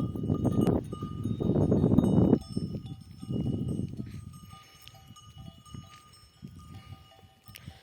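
A flock of sheep moving along hillside pasture near a village, with scattered bleats, shuffling hooves and faint clinking bells outdoors.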